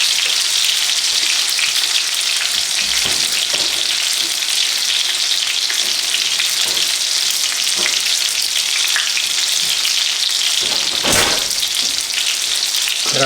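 Chicken frying in hot grease for a crispy chicken sandwich, a loud, continuous close-up sizzle and crackle with occasional sharper pops and stirring bursts.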